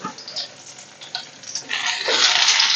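Sliced white onions with green chilies drop into hot oil in a pan for a Kerala buttermilk curry, scattered stirring scrapes giving way to a rising, steady close sizzle in the final second.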